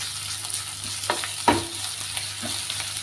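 Crushed garlic-ginger paste frying in hot oil with cumin in a pan, a steady close sizzle with a few louder spits and clicks of stirring, no voices.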